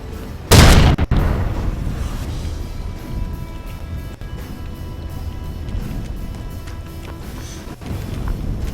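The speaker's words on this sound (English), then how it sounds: "I'm gonna golden bullet this guy for 8 damage." A single heavy gunshot booms out near the start in Hard West, a loud close blast followed by a sharp click, then subdued game ambience with a few soft knocks.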